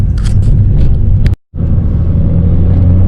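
A Porsche 987.1 Cayman with a Tiptronic gearbox rumbles loudly as it heads onto a highway, with a steady low engine and road drone broken by one brief cut to silence midway.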